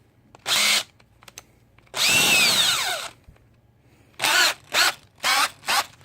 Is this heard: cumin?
no